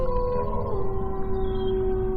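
A dog howls in long, drawn-out, steady tones that hold without a break, fairly loud against a low rumbling background, with no voices.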